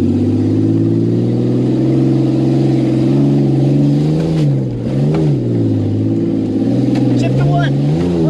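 A truck engine strains and bogs in first gear on a steep hill climb, a loud, low droning growl that dips and surges in pitch, with excited voices shouting over it.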